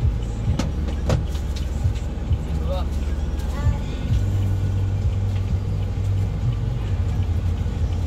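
A jeepney rumbles along a busy city street with a low, continuous engine drone and passing traffic noise, while people talk over it.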